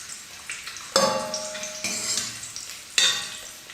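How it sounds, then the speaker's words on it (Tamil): Eggs frying in oil over a medium flame, with a steady soft sizzle, occasional stirring scrapes and a few sharp clinks of a utensil against the pan. "மீடியம் ஃப்ளேம்லேயே நல்லா 1 நிமிஷம் எண்ணெயில் ஃப்ரை பண்ணிட்டோம்."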